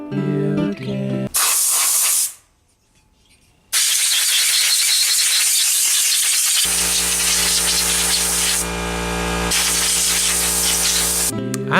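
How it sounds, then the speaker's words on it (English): A wire wheel cleans bolts and nuts during a Tomos A35 moped engine restoration. It gives a loud, steady, harsh hiss that drops out briefly, then runs on continuously with no talking. "cleaning bolts and nuts on a wire wheel is really just one of the most rewarding experiences I can think of"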